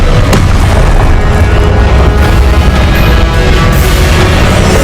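A Confringo fire spell in Hogwarts Legacy blasts out as a loud, dense booming explosion with a sharp onset, rumbling on continuously for several seconds.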